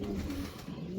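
A pigeon coos softly in low, rolling murmurs, faint and close against a quiet background.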